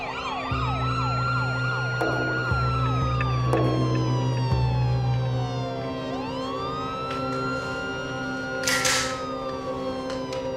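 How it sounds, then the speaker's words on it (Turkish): Wailing emergency sirens from police cars and ambulances, several overlapping tones sweeping up and down, loud and continuous with a brief horn-like burst near the end. "Polis ve ambulanslar da onun için gelmiş."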